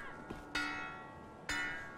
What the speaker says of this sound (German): jetzt läuten die auch noch eine Glocke